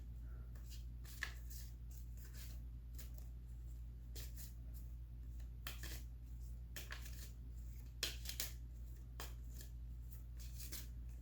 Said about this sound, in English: I'm just gonna shuffle these cards